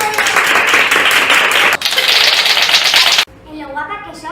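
A group claps rapidly and densely together at a Valencian falla gathering, loud and close, breaking once before stopping abruptly, after which a voice speaks.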